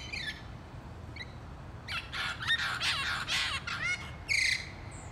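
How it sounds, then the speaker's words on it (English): Parrots give harsh, raucous squawks and screeches on a golf course, a cluster of loud calls in the middle and a final sharp burst, heard from a short distance over steady outdoor background noise. "That crazy noise there, parrots, but Michael doesn't get a bird there."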